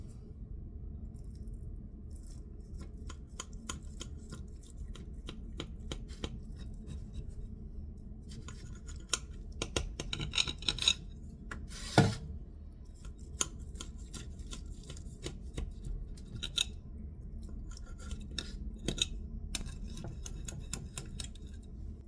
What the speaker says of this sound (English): I'm ready to cut the pie.